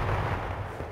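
A grenade explodes in the online shooter game H1Z1, a brief heavy low boom with rumbling that fills under a second.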